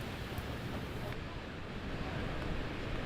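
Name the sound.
strong wind from tropical storm at jetty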